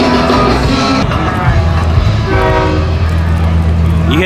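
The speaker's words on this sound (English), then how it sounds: "You hear that train coming? It's coming around the bend. There goes the train." A train passes near an outdoor oyster festival in Oyster Bay, its horn sounding in long steady blasts over a constant rumble, with crowd noise and voices around it.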